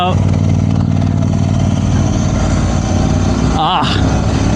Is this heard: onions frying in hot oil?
no